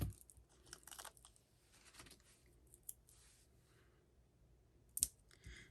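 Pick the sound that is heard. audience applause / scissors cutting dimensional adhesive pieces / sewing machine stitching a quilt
scissors cutting dimensional adhesive pieces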